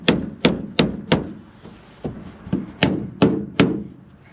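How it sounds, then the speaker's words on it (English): A hammer taps small pins into wood during interior work on a 1968 VW bus, about ten sharp, separate strikes at an uneven pace, close and loud with no voices. "Where's my hammer? I'm gonna tap those in a little bit"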